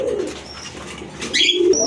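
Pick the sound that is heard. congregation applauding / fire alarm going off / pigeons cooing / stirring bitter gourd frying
pigeons cooing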